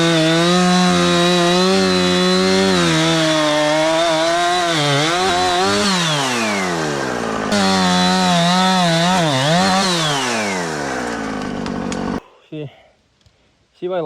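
A loud, close chainsaw engine revs and bogs as it cuts through storm-downed wood, pitch sliding up and down, then cuts out abruptly near the end.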